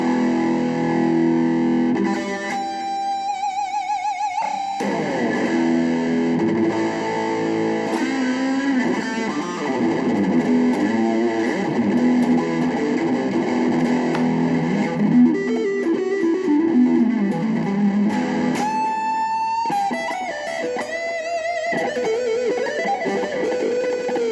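An electric guitar through an MXR germanium distortion pedal plays chords and single notes with a thick, fuzzy, saturated tone, sustained and loud, with no talking.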